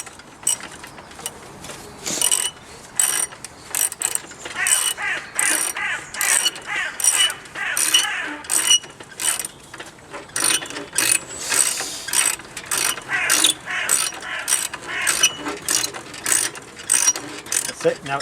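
A spring compressor ratchets down the coil over spring of a shock absorber, with rapid, loud clicking pawl strokes in repeated bursts, close up and with short gaps between them.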